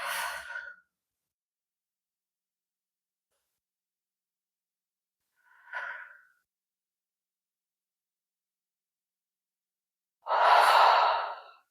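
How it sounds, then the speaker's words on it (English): Deep belly breaths during a reclined twist in a yoga stretch session: three slow, close breaths separated by long silences, the last a long, loud exhale, with no talking. "Take 3 really deep belly breaths here."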